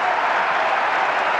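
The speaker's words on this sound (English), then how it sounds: "The crowds are up, they're appreciating his efforts" A cricket stadium crowd at the 2004 Samsung Cup final between India and Pakistan applauds VVS Laxman's fifty. The clapping and cheering are loud, dense and steady, a continuous roar with no pauses.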